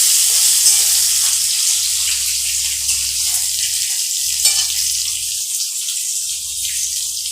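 Chopped tomato fries in a hot spice tempering for a Bengali pabda fish curry, a loud steady sizzle with brief stirring breaks and no talk.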